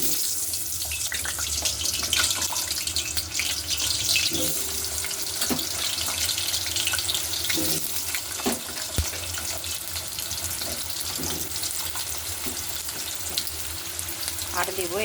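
Potatoes dropped into hot oil in a wok sizzle steadily with a bright, hissing fry, punctuated by a few clinks and stirs, sounding close and continuous.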